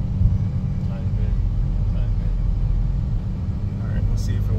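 A car with newly installed coilovers drives along the road, its engine and tyre rumble steady and loud throughout, heard from inside the cabin.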